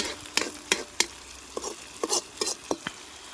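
Onions frying in a pan at home, stirred with a utensil that gives a series of sharp scraping strokes over a faint, steady sizzle, close up with no talking.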